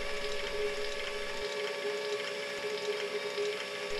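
A Bosch ASNU 01 tester rapidly pulses GDI fuel injectors in a steady mechanical buzz with fine ticking, constant and fairly close, with no voices.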